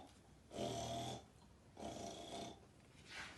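A voice imitating snoring farm animals, three slow, drawn-out snores spaced apart, each rising and fading, quiet and close.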